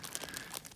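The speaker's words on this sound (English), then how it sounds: "each Coil package is in its own little plastic bag" A small plastic bag holding model train coil loads for Lionel BNSF coil cars crinkles up close, with brief, soft rustling bursts and no voices.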